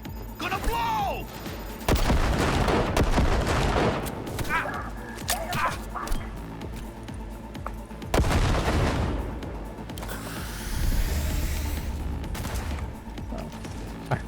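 Gunfire in the video game Cyberpunk 2077 during a heavy firefight, with loud bursts of shots and booming impacts filling the scene, dense and continuous.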